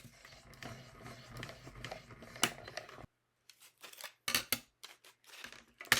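Scissors cutting white paper for a card craft, a run of close snipping cuts, some quick and clustered, with rustling paper between them and short quiet pauses.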